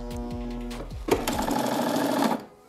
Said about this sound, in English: now we're ready to sew